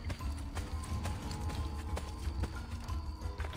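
Horse galloping in Assassin's Creed Revelations, with rapid rhythmic hoofbeats going on steadily under low game ambience.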